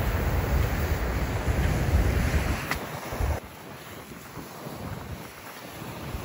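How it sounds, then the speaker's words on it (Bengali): Strong wind at the frozen Niagara Falls, where ice crystals are blowing through the air, buffets hard and close, roaring and rushing for several seconds, then drops to a softer, gustier hiss. "এখানে মনে হচ্ছে বাতাসের মধ্যে বরফ কুচি মেশানো।"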